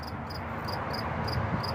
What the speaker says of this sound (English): You hear that cricket?